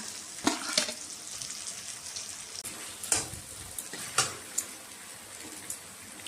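Chopped tomatoes fry with turmeric and chili powder for a chicken curry, giving a quiet steady sizzle broken by several sharp utensil clacks and scrapes at irregular intervals, with no voices.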